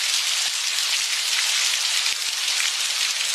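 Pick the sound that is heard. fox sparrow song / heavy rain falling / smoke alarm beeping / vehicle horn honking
heavy rain falling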